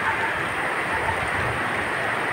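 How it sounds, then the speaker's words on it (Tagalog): Heavy rain during a storm with wind rising, a dense, steady broadband hiss of downpour pouring continuously and fairly close, with no voices over it. "Papasok dito ang ulan."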